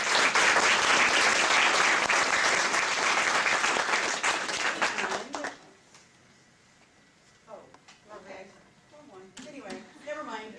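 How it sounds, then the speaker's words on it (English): Loud crowd applause at an Earth Day speech showcase fills the first half, then fades away, leaving a quieter room with scattered voices and small noises. "give them a round of applause"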